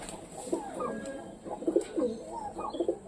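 A wild pigeon coos repeatedly at close range, soft throaty calls coming in short bursts against a quiet background.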